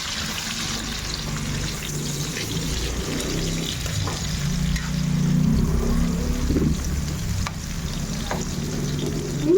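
Red and white onions sizzle and fry steadily in a hot pan, with occasional stirring scrapes, close and continuous throughout.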